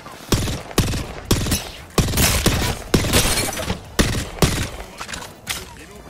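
Nemesis rifle fire in Apex Legends comes as sharp, evenly spaced bursts, about ten cracks over six seconds, close and loud with a little chatter between shots.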